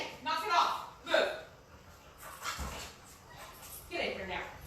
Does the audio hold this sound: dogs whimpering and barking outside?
yes